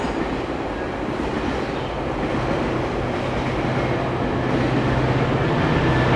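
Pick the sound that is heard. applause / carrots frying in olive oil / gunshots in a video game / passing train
passing train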